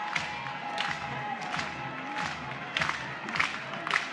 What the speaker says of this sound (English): Get a little bit of the Bronx cheer from some of the crowd here.